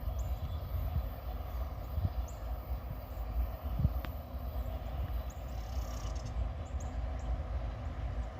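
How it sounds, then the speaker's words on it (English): A loaded coal train rolls past close by, picking up speed, with a steady, heavy rumble of wagons on the rails that holds throughout without a break. "Alright, this is a coal train."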